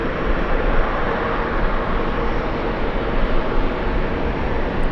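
A jet airliner comes in to land at JFK airport, its broad, steady roar filling the scene at constant loudness with no voices.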